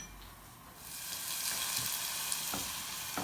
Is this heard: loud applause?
no